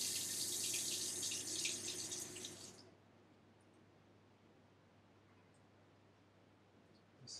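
Cold tap water runs steadily into a container for home-brewed pilsner for nearly three seconds, then shuts off, leaving a quiet room.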